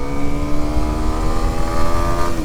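A Kawasaki Ninja 125 motorcycle engine drones loudly and steadily while riding uphill through clutchless upshifts, its pitch holding level and then dipping slightly near the end.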